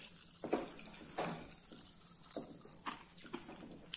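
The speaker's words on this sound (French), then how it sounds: "Ça pétille dans la bouche." Popping candy made of sugar crackles in the mouth, giving sparse, quiet snaps and fizzy bursts at irregular intervals over a faint background hiss, with no talking.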